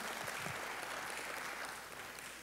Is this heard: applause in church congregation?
yes